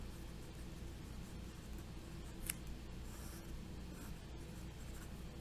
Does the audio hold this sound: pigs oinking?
no